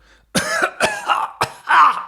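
A man acting out a character's stage cough, identified as Chopin: four loud, close, harsh coughs in quick succession, the last one longer and more strained, with no speech between them.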